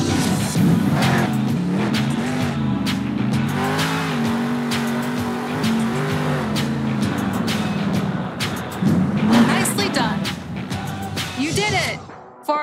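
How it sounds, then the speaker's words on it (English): Monster truck in Monster Jam Steel Titans braking in a practice zone: a loud, steady engine roar with tire squeal and skidding runs throughout, ending in a brief final stop. "Now we are going to practice braking. Try to stop your truck inside the glowing zone."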